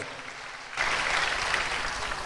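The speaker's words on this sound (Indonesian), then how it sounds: "Tepuk tangannya paling meriah buat Tuhan." A church congregation breaks into applause during a sermon, starting abruptly and holding at a steady, lively level as a dense wash of clapping.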